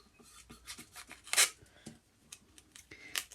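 Painter's tape being cut around a curve on a Lazy Susan, soft close snips and rubbing scratches in a faint irregular series, with one sharper crinkle midway.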